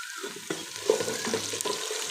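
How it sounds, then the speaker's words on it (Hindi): Potato pieces frying with onions and spices in a pan, a moderate sizzle with scraping stirs and soft clinks, close and steady with no talking. "तो आलू इसमें फ्राई हो चुके हैं।"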